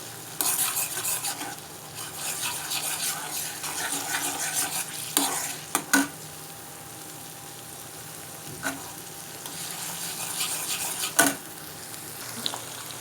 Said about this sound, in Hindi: अब इसमें मैं गोश्त शामिल कर रही हूँ। इसे भी हल्का सा हम फ्राई करेंगे।